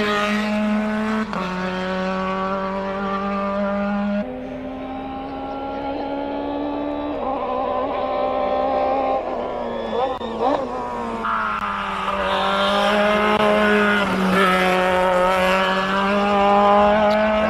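A hillclimb race car at Simola Hillclimb screams up through the gears with loud rising engine tones, wheel spin and tire squeal, then fades and returns as the car climbs the course.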